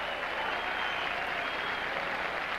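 Tennis crowd at the 1978 US Open applauds a point, a dense, continuous wash of clapping from many hands held at steady volume throughout.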